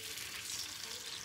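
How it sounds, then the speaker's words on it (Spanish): Pork rib tips frying in a pot of oil, a close, even hiss of sizzling grease with no voices over it. "para yo empezar a freír las costillitas"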